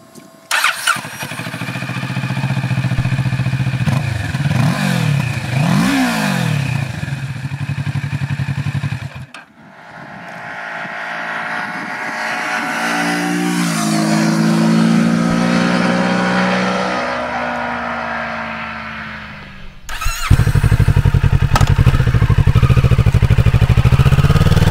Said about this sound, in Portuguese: A máquina soa bem, o som se encaixa na moto